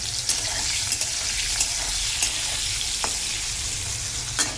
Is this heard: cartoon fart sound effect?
no